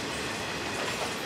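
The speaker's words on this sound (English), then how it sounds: "you see how slow the train going?" A slow train rolls past close by in Jamaica, its rumbling wheels and rail noise a dense, steady roar.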